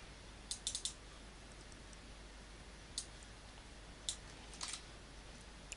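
Sparse computer keyboard keystrokes, a quick cluster of taps then isolated presses spaced a second or two apart, faint and close over a steady hiss, with no voice.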